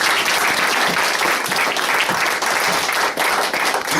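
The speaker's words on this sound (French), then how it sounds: "Est-ce qu'on peut acclamer très fort?" A congregation in a church applauds loudly and steadily, a dense, sustained wash of clapping with no pauses from start to finish.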